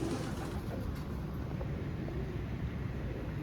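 Pigeons coo in a Dubai loft, a soft low murmur running steadily through a faint background hiss, with no voices.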